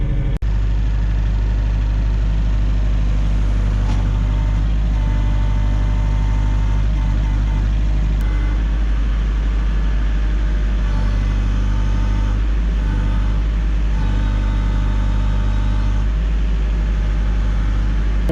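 A truck engine idles steadily at a snow removal business while sand is loaded, a loud continuous low rumble that runs throughout without a break.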